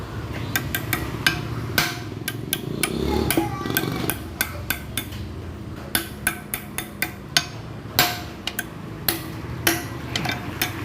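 Hammer blows on metal while working on a GL-series motorcycle: about two dozen sharp, ringing strikes in an uneven rhythm, fairly close, over a low background rumble.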